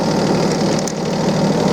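A Yanmar KE-3 tractor engine runs loud and close with a steady, rough, throbbing drone and a knocking pulse, no talk over it.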